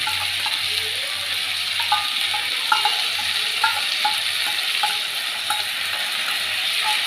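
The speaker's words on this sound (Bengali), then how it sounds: "এইবার আমি এর মধ্যে দেবো হচ্ছে রসুন বাটা রসুন বাটা দিয়ে দিলাম" Garlic paste frying with vinegar in a pan while cooking mola carplet fish: a loud, even, close sizzle with light rhythmic clicks of a spatula knocking against the pan.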